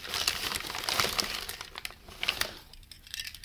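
Paper packing material crumpled and rustled by hand while unpacking a parcel of Tamiya DT-03 and M-06 RC car parts, close-up crinkling bursts that fade near the end.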